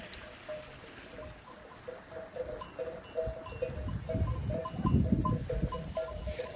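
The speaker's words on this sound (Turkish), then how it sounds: "Şu an alt tarafa alınç için sürüyü aşağı götürüyor." A flock of sheep and goats is driven downhill by a herder on open grazing land, with hooves moving over ground, scattered bleats and a rising rustle as the animals draw nearer.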